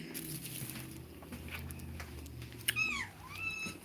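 A kitten outdoors among large plants gives a single clear, rising-then-falling meow near the end, preceded by soft rustling and low background hum.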